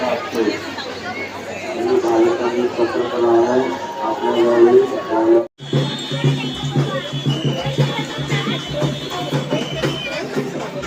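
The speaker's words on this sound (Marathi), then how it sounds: "खूप खूप खूप गर्दी आहे" A large crowd of devotees chatters at the Tuljapur temple in Maharashtra, a dense hubbub of overlapping voices. A closer voice speaks over it, and after a brief cut the babble continues with faint clattering.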